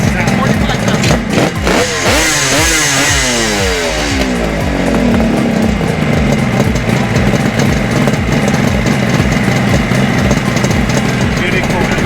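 Engine of a restored 1980s Kawasaki 1000R motorcycle at a vintage show, loud and close, blipped through a few sharp revs before settling into a steady rumbling idle, with people talking over it.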